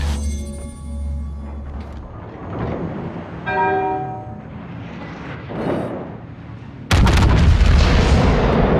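In World of Warships, a Yamato battleship's engagement brings scattered distant booms and ringing tones that end in a sudden loud, sustained explosion near the end as an enemy battleship is destroyed.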